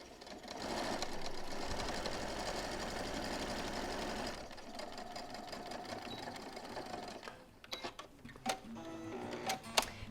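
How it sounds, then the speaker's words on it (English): A sewing machine stitches a row of a memory quilt made from baby clothes, a loud, fast, even whirring chatter for about four seconds, then quieter handling clicks and fabric rustles. "And then you're just going to be sewing all the way straight along here."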